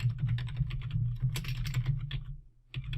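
Rapid typing on a computer keyboard, close and brisk key clicks in an uneven run with a short pause near the end before a few more strokes.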